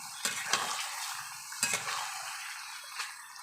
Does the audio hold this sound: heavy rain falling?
no